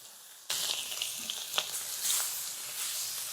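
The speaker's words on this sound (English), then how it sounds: "I'm just going to put some nice streaky bacon on the other side here to go in our burgers." Streaky bacon hits a hot griddle beside smash burgers and bursts into a loud, close, continuous sizzle that crackles and pops, with no talking.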